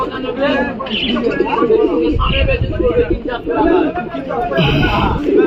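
Pigeons at a crowded Galiff pigeon market where Rampuri and Allahabadi birds are sold, with soft cooing and bird calls buried under steady chatter and close talking from sellers and buyers.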